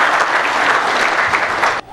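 Audience applause fills a ceremony hall for a national teachers' day celebration in Haiti, a dense, steady wash of many hands clapping loudly for nearly two seconds before cutting off abruptly.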